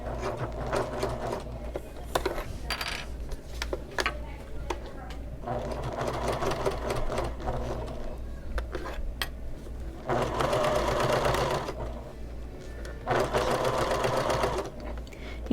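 A domestic sewing machine stitches back over skipped stitches on a convertible bag, its steady whirring runs rising and pausing in several close, loud bursts, with a person talking over parts of it.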